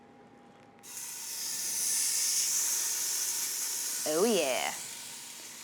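Salted, peppered beef rib meat sears in an Instant Pot with a loud, steady sizzling hiss that starts abruptly and continues, with a brief spoken exclamation over it near the end.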